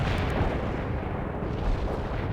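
Artillery barrage striking a target in the real-time strategy game World in Conflict, heard as a dense, continuous rumble of overlapping blasts with no clear gaps, steady and loud throughout.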